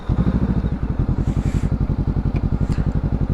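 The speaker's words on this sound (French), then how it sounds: "le temps que ça chauffe la moto" A motorcycle engine warming up at idle, a steady close chugging pulse with rapid regular firing beats and light mechanical clatter throughout, no voices over it.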